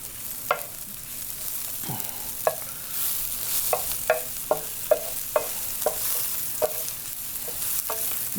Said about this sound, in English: So let's saute our mushroom just for a second.